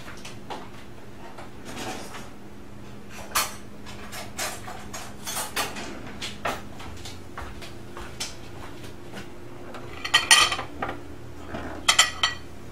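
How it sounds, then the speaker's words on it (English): A spoon and dishes clink while gravy is served over potatoes alongside roast beef, with scattered light taps and a few sharper clinks near the end over a low room hum. "Let me get a spoon so I can put my gravy over my potatoes"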